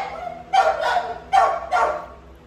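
Pit bull dogs barking from downstairs, heard from a top-floor room, with four muffled barks in two quick pairs over a faint background hum.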